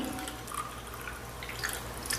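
Tap water drips from a tomato lifted out of a glass: a few faint, scattered drips over a low steady hum.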